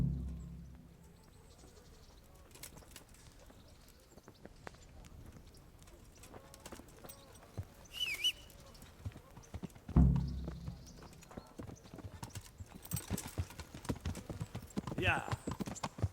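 Horse hooves clip-clop in Kingdom Come: Deliverance, a medieval setting, as a steady walking rhythm of soft thuds under ambient game sound, growing busier toward the end with a brief bird call.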